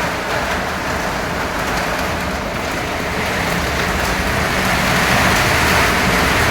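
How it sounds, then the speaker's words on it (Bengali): Heavy storm rain pours down in a dense, constant roar close by, steady and loud throughout. "আর দেখো কি বিভৎস ঝড় বৃষ্টি হচ্ছে"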